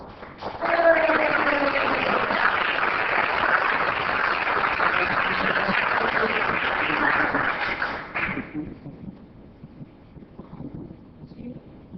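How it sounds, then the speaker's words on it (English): A council meeting audience in Oceanside breaks into loud, sustained applause that carries steadily for about eight seconds before tapering off, leaving faint room noise and scattered murmurs behind it. "Let's help Greg celebrate with a round of applause."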